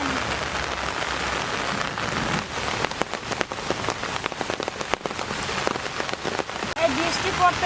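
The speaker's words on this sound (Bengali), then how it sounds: "এই বৃষ্টি পড়তেছে, বাইরের কাজটা আগে সেরে নিই" Steady rain falls outdoors, a dense close patter of drops on surfaces with sharper individual splashes standing out through the whole stretch.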